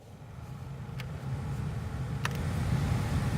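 A blower fan in a 2001 Kia Sephia runs with a new blower motor resistor fitted, giving a steady whooshing airflow with a low hum that grows slightly louder as the speed increases, and two brief clicks are heard.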